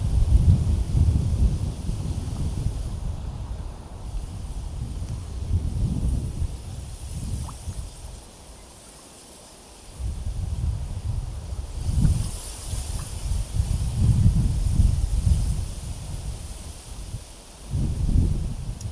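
Strong wind at a stormy lakeside while fishing buffets the microphone in heavy rumbling gusts, easing briefly to a quieter lull before roaring back.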